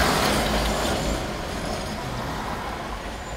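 A tram rumbles and hisses past nearby on a dusty street in Odessa, loud at first and then fading slightly into steady street noise.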